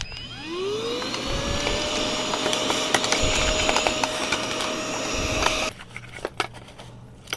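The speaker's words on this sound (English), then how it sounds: "Take your mini vac." A mini vacuum cleans dust and lint from the crevices of a Brother 1034D serger, giving a loud, close, whirring drone that rises in pitch at the start and cuts off abruptly, followed by a few small clicks.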